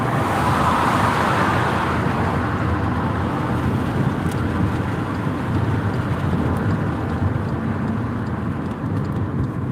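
Steady road noise from a car driving along Pleasant Valley, a continuous low rumble of engine and tires with broad traffic hiss, loud and unbroken throughout with no talking.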